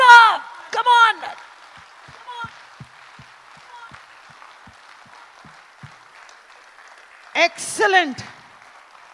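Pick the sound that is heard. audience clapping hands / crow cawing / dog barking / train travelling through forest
audience clapping hands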